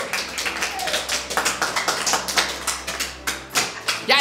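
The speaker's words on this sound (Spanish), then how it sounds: "Un aplauso para el mejor youtuber de este año." Applause at the Premios Coronas 2020, a Spanish-language online awards show for YouTubers, as the year's best youtuber is announced: a steady wash of clapping with sharp irregular claps over a low held tone, loud and continuous throughout.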